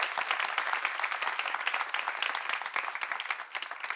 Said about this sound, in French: Applaudissements pour vous-même